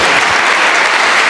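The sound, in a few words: church congregation applauding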